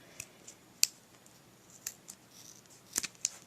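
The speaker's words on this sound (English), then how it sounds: "So I'm gonna take my scissors." A few sharp scissor snips cutting string at irregular intervals, close and crisp, over a quiet background with no talking.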